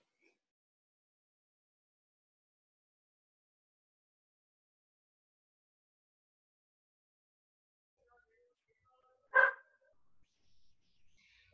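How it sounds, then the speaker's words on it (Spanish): A dog at a teacher's home gives a single short bark in an otherwise silent room, followed by a few faint, scattered sounds. "También divertido los perros del profe."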